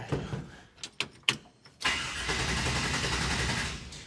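A car engine fitted with Holley EFI cranks in a few short bursts, then catches and settles into a loud, steady running note up close.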